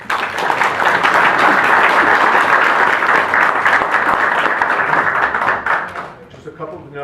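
An audience applauds after statements at a public address on state and national issues, loud, dense clapping that holds steady for several seconds before tapering off at the end.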